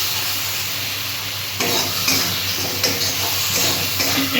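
Spice masala of cumin, coriander, red chilli and Kashmiri chilli powders stir-fries in hot oil for a Bengali fish curry with potato and eggplant, giving a dense, close hiss broken by louder scraping stirs partway through.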